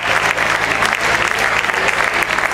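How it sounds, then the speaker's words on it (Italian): Loud, dense clapping from a blues festival audience, sustained and even throughout with a low hum beneath it. "Facciamo ancora un applauso a tutti."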